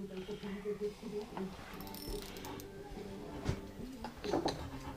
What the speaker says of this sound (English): A little small socket be gone in no time.